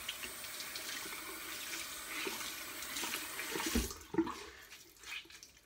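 Tap water runs into a sink as face wash is rinsed off a hand, a soft close splashing wash that swells briefly with a few louder splatters near the end.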